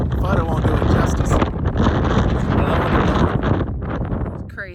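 Strong gusts at a snowy Petroglyphs National Monument viewpoint in Albuquerque roar and buffet the microphone, a loud, continuous rumbling rush that barely eases over nearly five seconds.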